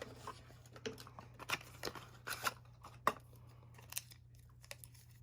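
Scissors snipping paper while trimming a layer for a handmade Christmas card, a series of close, quiet, irregular cuts spread across a few seconds with no talking.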